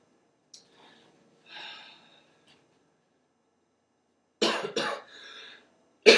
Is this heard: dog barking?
no